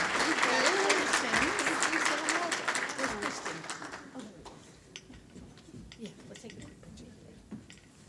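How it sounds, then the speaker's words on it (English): An audience at a legislative briefing and reception applauds the Legislator of the Year, a dense burst of clapping that is loud at first and then thins and fades over several seconds, with voices mixed in. "help me give a big round of applause to our Legislator of the Year, Senator Katie Frey-Hester."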